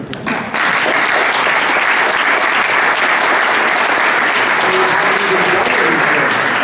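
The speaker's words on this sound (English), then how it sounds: "let's give an applause to our panelists" Sustained, dense applause from an audience at a gallery panel discussion at Hauser & Wirth, greeting the panelists. It rises at once and stays loud and steady throughout.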